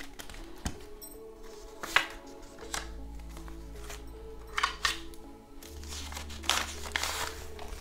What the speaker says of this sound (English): we're going to stuff my zipper envelopes